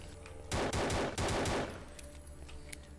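A priest's gun firing in the horror game Dread X Collection: The Hunt: a loud burst of rapid shots lasting about a second, close and harsh, fading to a faint tail, with no talking.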